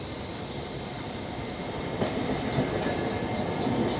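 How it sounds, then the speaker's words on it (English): A Tokyo streetcar rolls along its rails in a steady, continuous rumble of wheels and car noise, growing slightly louder toward the end, with no talking. "So the tram I got on is still here,"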